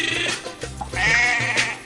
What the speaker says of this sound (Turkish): kuzuların sesinden bir şarkı icat etti